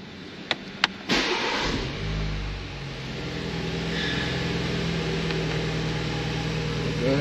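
A BMW Z4 roadster engine fires up from its push-button start: a couple of faint clicks, then a loud crank that settles into a steady, close idle which holds to the end, with no talking.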